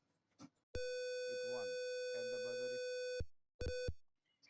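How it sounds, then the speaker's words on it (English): An electronic buzzer on a digital logic snake and ladder game board sounds a steady, harsh tone for about two and a half seconds, then a short second burst, while a person speaks quietly over it. "it won and the buzzer is started playing"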